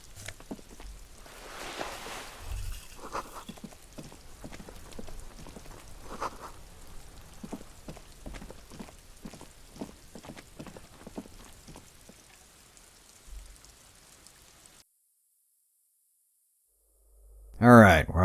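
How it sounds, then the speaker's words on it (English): Steady rain falling in the video game Disco Elysium, a soft continuous patter with scattered louder drops, cutting out abruptly to near silence before a brief loud burst at the end. "Alright, we're out of the rain."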